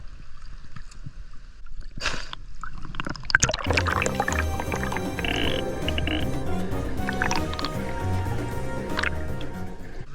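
Steady rushing water from a waterfall in a deep mountain valley stream pours and splashes continuously, loud and close, after a few seconds of quieter sounds.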